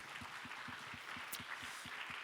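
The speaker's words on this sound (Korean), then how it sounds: "박수 한번 하겠습니다." Applause from an audience at a church young adults' group gathering, a steady patter of many hands clapping at a distance, faint and even, with no talk over it.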